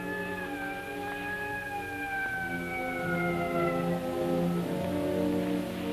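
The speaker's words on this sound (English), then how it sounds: "When I got far enough away not to be annoyed by police sirens" Police sirens wail in a steady rising and falling tone, somewhat distant, over a rumbling street background.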